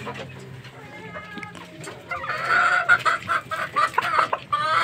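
A young gamecock stag from a Bolick Green Legs fighting-rooster line clucks close by in a run of short, uneven calls that grow louder and busier partway through.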